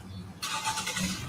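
A car engine runs close by during a roadside stop with the headlights on. It hums low, then surges into a louder, brighter rumble partway through the moment.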